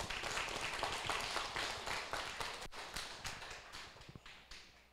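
A lecture-hall audience claps in welcome for a speaker at a political law class, a dense patter of hand claps that gradually thins and fades toward the end.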